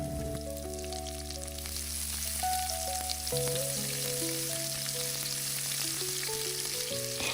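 Garlic and onions fry in hot oil for a Sri Lankan dhal curry with a steady, close sizzle and occasional stirring, while sustained musical tones play underneath.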